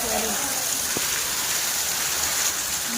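Heavy rain falls steadily in a thunderstorm, a dense, even hiss of drops throughout, with a faint voice briefly audible beneath it.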